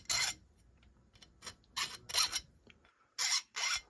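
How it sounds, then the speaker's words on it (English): Filing grooves for epoxy glue during pillar bedding of a rifle stock, a rasping file stroke repeated in about six short bursts with brief pauses between, close and fairly quiet, with no talk. "I'll cut one more groove in here. These grooves here that you see are in here for the glue, for the epoxy."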